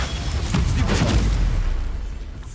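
A Bombarda spell explosion in Hogwarts Legacy booms loud and close, a dense rumbling blast that fades slowly over a couple of seconds.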